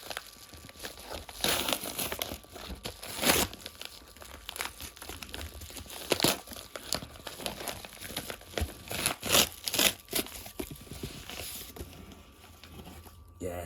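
Crinkly plastic packaging being torn open by hand and crumpled in bursts while unboxing a DVD, with a person talking close by throughout.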